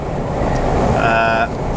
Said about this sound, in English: Shut that window, it's a bit windy on the bridge.